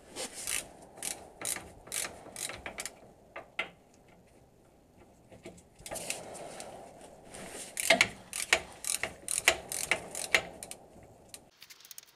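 Ratchet wrench loosening the four hub bearing bolts on a 2007 third-generation Dodge 2500 pickup, quick bursts of sharp metallic clicking repeated in rhythmic runs with short pauses, close and moderately loud, no talking.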